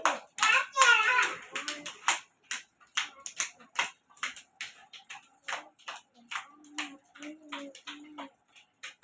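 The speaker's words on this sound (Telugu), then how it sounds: "పిల్లలు, క్లాప్స్ కొట్టండి." Anganwadi children clapping their hands, a loose run of uneven claps, fairly close and moderately loud, with a voice speaking over the opening moments.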